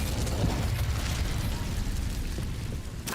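Incendio fire spell cast in Hogwarts Legacy, a loud, dense burst of fiery roaring that fills the whole stretch and eases slightly toward the end, with no talking.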